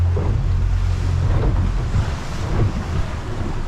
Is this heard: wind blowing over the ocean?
yes